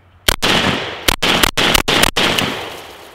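AK-47 rifle gunshots fired outdoors, five or six loud sharp cracks in an uneven sequence with ringing echoes between them, with no talk over them.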